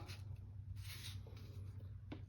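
A pen scratches and scribbles across a card in soft, quick strokes, faint against a steady low hum.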